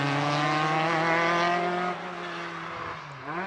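A Vauxhall-powered Westfield race car howls at high revs on a hill climb course at Prescott, its engine note holding a loud, even pitch before easing down as it lifts off.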